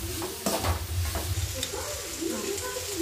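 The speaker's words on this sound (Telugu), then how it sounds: "కొద్దిగా కరివేపాకు, కొద్దిగంత కొత్తిమీర వేసుకుందామండి. వేసుకొని కలపాలి." Curry leaves and coriander are stirred into cabbage chutney frying in a pan, giving a continuous sizzle with scraping stirs near the microphone and a faint voice underneath.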